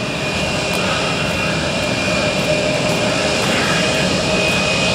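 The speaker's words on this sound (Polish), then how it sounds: "Więc samolot kołuje, to może i wystartuje." A Wizz Air passenger jet taxis at Gdańsk airport, its engines producing a steady, loud broadband roar with a faint high whine that holds constant throughout, with no voices.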